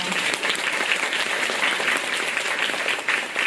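A theatre audience applauds at the end of a Trainspotting stage performance, a dense, sustained round of clapping at even loudness, with no pauses.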